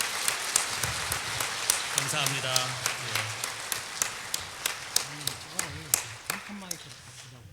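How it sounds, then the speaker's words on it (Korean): A church congregation at a presbyterian elders' retreat opening service claps for a worship dance team, with sharp individual claps standing out over a softer wash and a voice speaking over it. "우리 권사님들 뒤에 계신데 우리 박수 한번 주시겠습니다."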